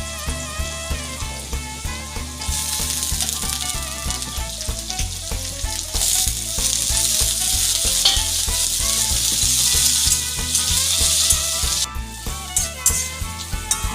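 Potatoes sizzle in hot oil with already-fried onions for an egg curry, a loud steady frying hiss that swells midway, heard under rhythmic background music with no talking.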